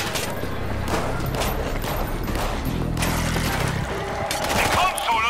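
Machine gun fire from the zombie shooter World War Z rattles in repeated bursts amid game noise and a busy, cluttered mix, with some voices under it.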